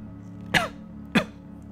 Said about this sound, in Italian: Una tosse violentissima lo colse